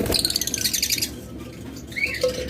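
A pair of lovebirds chirp close by in quick, bright tweets and squeaky calls, with a short pause partway through before more chirping.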